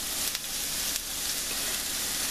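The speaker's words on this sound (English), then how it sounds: "And I think I'll go ahead and add my cabbage too." Shredded cabbage hits a hot pan of frying yakisoba noodles and sizzles loudly and steadily up close, with a couple of brief clinks and stirring noises underneath.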